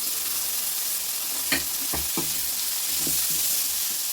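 Tomatoes sizzle steadily in a hot pan, with a few scraping stirs of a utensil cutting through the frying hiss.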